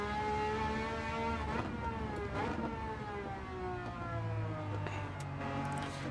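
A race car engine in the video game Gran Turismo 7, a loud sustained drone whose pitch rises and falls steadily as the car works through a corner, continuous and up close with no talking.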